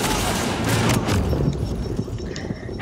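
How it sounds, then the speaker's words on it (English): Dense, sustained gunfire from a firefight in the video game The Division, a continuous barrage of shots and booms filling the whole stretch at close range with no pause. "Who is shooting at me?"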